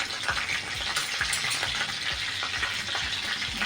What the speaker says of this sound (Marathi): तेलामध्ये मिरच्या जरा भाजून घ्यायच्या आहेत